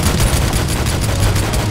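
Dense gunfire and bullet impacts fill a battle in the PS3 video game Army of Two, a loud, continuous rattle of rapid shots with no pause.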